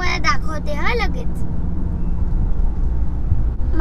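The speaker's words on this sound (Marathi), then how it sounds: "माझे बाबा सध्या गाडी चालवतात ते आम्ही गाडीमध्ये बसले" A car drives along a road near Panvel, past Navi Mumbai, at sunrise with father at the wheel. A steady low rumble of the engine and tyres fills the cabin close up, with a voice talking briefly at the start.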